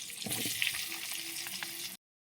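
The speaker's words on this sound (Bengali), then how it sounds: "ওই ডিম কলাই করেছি ওতে আলুটা ভেজে নেবো ওই তেলে।" Potato pieces fry in oil left from cooking eggs, a soft, steady sizzle with light stirring, heard alone and close for about two seconds before cutting off.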